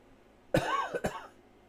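Two harsh, close coughs from a person with a head cold, the first longer and rougher, the second short and sharp, heard alone in a quiet room.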